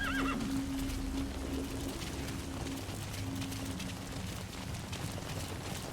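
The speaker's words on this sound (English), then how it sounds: "Horse, to me." A horse in the video game Metal Gear Solid V whinnies once near the start, then its hooves clop steadily at a gallop under a low ambient game background, fairly quiet throughout with no talk.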